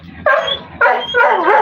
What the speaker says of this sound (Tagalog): Nagpahulan po itong mga aso ko.